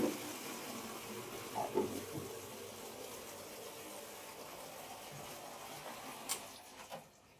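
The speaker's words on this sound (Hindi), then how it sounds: "तो मैं फटाक से पानी भर के रख लेती हूँ।" Water runs from a household tap into containers being filled, a steady faint gush with a few small knocks and splashes, no talking.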